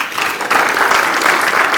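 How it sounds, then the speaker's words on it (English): Audience at a university debate in Kenya claps steadily and densely, a loud, even wash of many hands with no talk over it. "Can we all clap for ourselves?"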